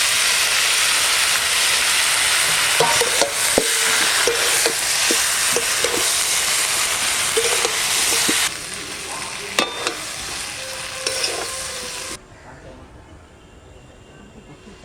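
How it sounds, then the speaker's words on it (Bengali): Cauliflower florets fry loudly in a hot pan for a home-style Bengali katla fish curry, a steady close sizzle broken by scraping stir clinks, easing twice to a quieter hiss near the end. "ফুলকপিটা ভাজা প্রায় হয়ে গেছে"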